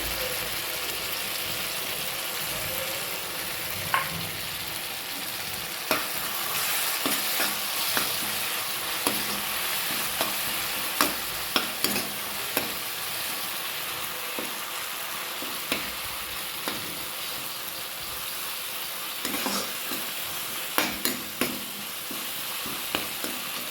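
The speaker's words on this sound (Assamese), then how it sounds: "সৰিয়হৰ পেষ্টখিনি অলপ দেৰি ভাজিব লাগিব।" Mustard paste fries in a pan, giving a soft steady sizzle, while a spatula scrapes and stirs it with light clicks and taps at irregular intervals, close up and fairly quiet, with no talking.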